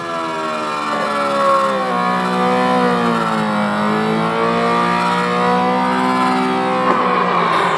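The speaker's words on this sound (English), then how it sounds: "So go ahead and step on the gas, and away we go." A race car engine from the Final Lap arcade video game revs up with rising, stepped whining tones as it shifts through the gears, loud and electronic-sounding, with no talk.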